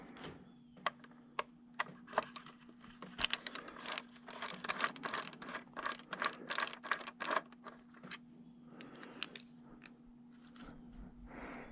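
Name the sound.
removing screws from Honda 1300 odometer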